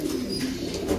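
Pigeons cooing softly and continuously at close range, low rounded calls layered over a steady outdoor background with no talking.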